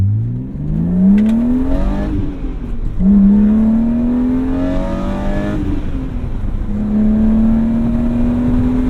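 A BMW M3 accelerates hard through the gears, its engine note climbing steadily in three rising sweeps with brief drops at each shift, loud and close with no talk.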